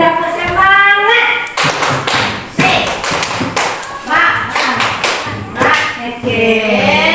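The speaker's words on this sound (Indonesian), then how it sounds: "Coba ini dulu tepuk semangat dulu. Tepuk semangat." A group of schoolchildren and teachers performs the rhythmic tepuk semangat spirit clap at an elementary school, sharp patterned claps and taps in quick bursts, mixed with voices chanting and talking over them.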